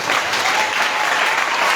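A church congregation applauds together, a dense, loud and steady wash of clapping hands with no voices standing out.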